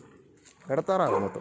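On a duck farm, a dog lets out a short, close bark or whine that overlaps a person talking.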